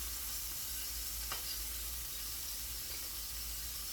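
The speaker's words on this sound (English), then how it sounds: "Alright, flipping these burgers over. Definitely got a crust on them." Cheese-filled hamburger patties sizzling on the cooking surface right after being flipped, a dense continuous hiss and spatter under a low hum, close and steady with one brief sharper crackle.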